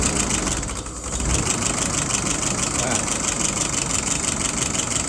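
A YS 637S engine runs at a steady idle after being started, a continuous mid-pitched mechanical drone with a brief dip near the start, close and loud throughout.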